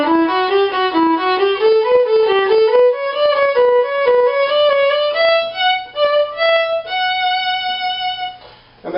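A solo violin plays the second violin part from The Wizard of Oz in steady triplet figures, clear and close, with sustained bowed notes rising and settling toward the end.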